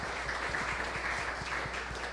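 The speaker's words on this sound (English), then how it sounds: "Everybody, a big round of applause for our two panelists" Faint, steady applause from a conference audience for two panelists, sounding distant and thin over a low hum, without talk.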